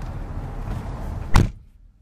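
Door of a 1990 Ferrari 348TS shutting, a single solid thud near the end after quiet interior ambience, close and fairly loud.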